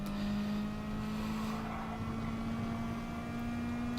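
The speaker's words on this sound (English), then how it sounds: "upshift into third, really load that engine up" Mazda Atenza Gr4 race car engine at wide open throttle in GT Sport on the Fuji circuit, a steady high droning whine that climbs slowly in pitch under load, continuous and close.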